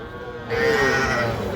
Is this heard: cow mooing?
yes